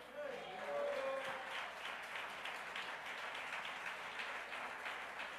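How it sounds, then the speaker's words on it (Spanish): A church congregation claps in praise, a soft, steady patter of many hands heard from a distance, with a voice speaking over it near the start. "¿Le podemos dar palmas de alabanza al Señor?"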